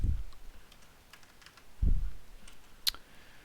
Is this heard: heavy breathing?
no